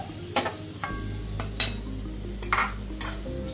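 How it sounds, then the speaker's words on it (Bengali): Potatoes fry slowly in a pan for a Bengali mutton curry, a steady low sizzle with intermittent clinks and scrapes of a utensil stirring against the pan. "আস্তে করে দিয়ে আলুটাকে ভাজার চেষ্টা করবে"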